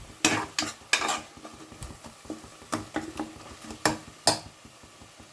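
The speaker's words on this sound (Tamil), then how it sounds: "இப்போ நம்ம வதக்கிக்கலாம். பச்சை வாசனை போகிற வரைக்கும் நாம் வதக்கிக்கலாம்" Onions with chili powder are sautéed in a pan, with a spoon scraping and stirring in irregular strokes over a soft, low sizzle, close and fairly quiet.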